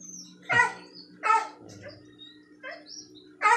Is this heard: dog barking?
yes